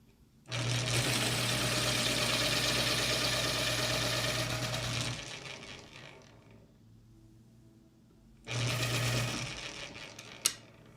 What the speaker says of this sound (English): sharpening.